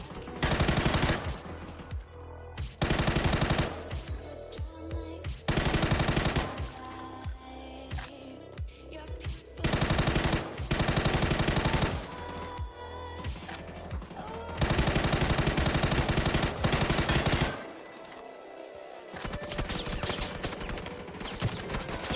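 Automatic M4 assault rifle fire in PUBG, played online, comes as dense, loud sustained bursts broken by brief pauses, with continuous rapid shots filling most of the stretch.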